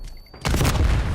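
A Semtex grenade explodes in Black Ops 6: a single sudden loud boom that cuts in after a quiet moment and rumbles on briefly.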